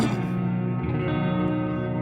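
An electric guitar runs through a NUX Verb Core Deluxe pedal on plate reverb with decay raised high and level at noon: a sustained chord rings clearly while a thick, woolly wash of ambience swells and lingers behind it.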